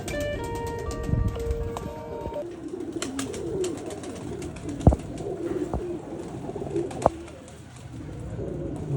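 Competition racing pigeons coo in a loft, with low, rolling calls mixed with scattered clicks and a few sharp taps, heard fairly close and clear with no talking.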